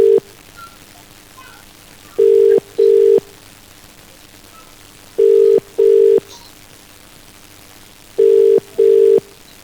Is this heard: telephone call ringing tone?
yes